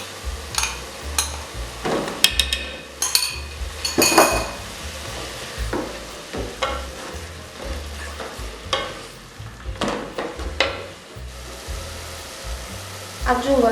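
Carrots and celery sizzling in a pan for a Sicilian potato gateau ragù, a steady fry hiss broken by repeated clinks and scrapes of a utensil stirring against the pan.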